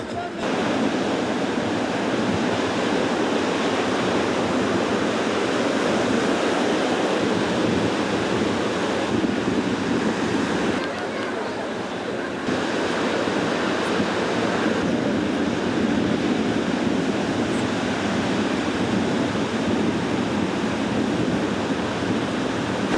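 Ocean surf breaking at the La Murette bodyboarding spot in Anglet on the Basque coast, a loud, continuous broadband roar of waves that dips briefly in the middle before surging back.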